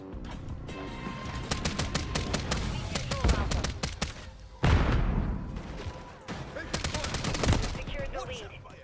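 Video game gunfire in a hardcore domination match bursts in rapid automatic volleys with loud individual shots and explosive booms, nearly continuous and close, with a voice occasionally beneath.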